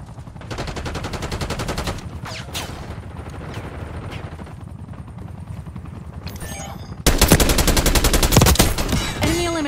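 Rapid automatic gunfire in Call of Duty Black Ops 6 Team Deathmatch multiplayer, with dense bursts at the start and a louder, nearer volley near the end, mixed with scattered shots and game effects.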